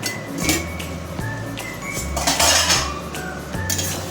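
A metal lid is lifted off a cooking pot of tomatoes and onions being sautéed for mutton keema, giving several close, bright clinks and clatters of metal cookware over about four seconds.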